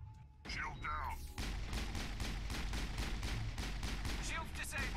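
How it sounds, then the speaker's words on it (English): Rapid, continuous gunfire from a squad battle in the sci-fi video game Mass Effect, dense repeated shots pounding steadily for several seconds, loud and close, with a brief burst of voices and electronic effects at the start. "Shoot him, boys."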